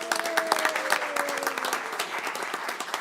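Applause at a township board of trustees meeting, a roomful of people clapping steadily for about three seconds, moderately loud with no talk over it.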